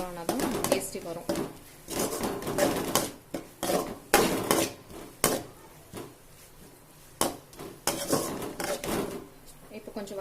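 Onions and tomatoes being sautéed in a pan for a brinjal kuruma kuzhambu, with repeated clanks and scrapes of a spatula against the pan under someone talking.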